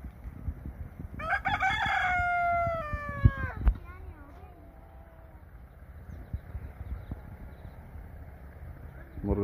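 A rooster crows once, loud and near, a long harmonic call that rises then falls, followed by quieter farmyard background noise in a village setting.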